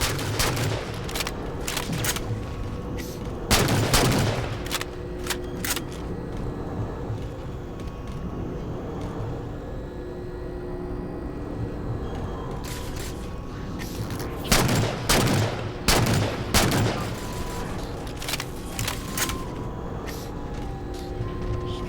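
Gunfire crackles in the sci-fi shooter Halo 4, with bursts of automatic fire and heavy impacts over a constant rumbling vehicle and battle din. The busiest volleys come early and again in the middle, loud and close.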